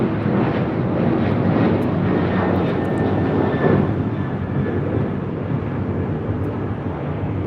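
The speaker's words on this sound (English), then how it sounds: "279 taking off to Tampa, Florida on a 737-900 ER." United Boeing 737-900ER taking off from LAX bound for Tampa: a continuous loud jet engine roar that swells slightly early on and then holds steady, with no voices.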